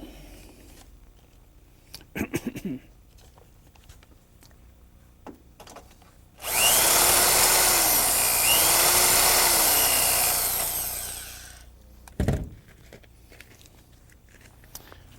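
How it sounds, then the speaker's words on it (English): A power drill fitted with a 21/64 bit whines loudly and steadily for about five seconds, biting into metal on a car part, with scattered clicks and handling knocks before and after. "It requires a 21/64 drill, so we're going to have to change the drill bit."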